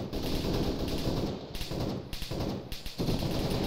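Rapid bursts of automatic gunfire crackle through a video game firefight, dense volleys broken by short gaps, loud and close with no talking.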